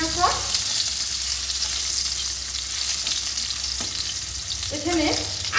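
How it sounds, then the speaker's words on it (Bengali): Green mango pieces frying in hot oil in a pan for a sour Bengali bata fish curry, a steady close sizzle with scraping stirs near the start and again near the end. "একটা আম কেটে রেখেছি, এই আমটাই তেলের মধ্যে দিয়ে দেবো।"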